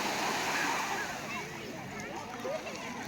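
Calm sea waves wash steadily onto Sethu beach at Thiruppullani under light rain, making a continuous soft rushing surf. Someone speaks over the water.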